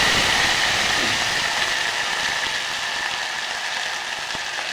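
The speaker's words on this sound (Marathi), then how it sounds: "तेलामध्ये मी मोहरी जिरं आणि हिरवी मिरचीचा ठेचा" Mustard seeds, cumin and green chili paste fry steadily in hot oil, a continuous bright crackling sizzle that stays loud and even throughout with no voices.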